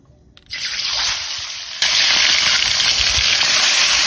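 Freshly caught fish hisses and sizzles loudly in hot oil in a pan, a steady crackling roar that jumps louder after a moment, with no one talking.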